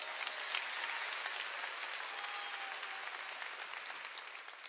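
A church congregation applauds during a Korean sermon, a dense, steady wash of clapping from many hands that holds at an even level throughout without letting up.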